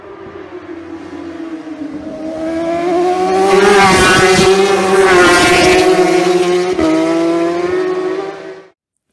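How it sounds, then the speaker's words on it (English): A racing motorcycle at the Isle of Man TT roars hard out of Laurel Bank corner, engine note climbing loudly as it passes close by, then cutting off abruptly. "Michael gets the bike upright very quickly to gain maximum drive out of the corner"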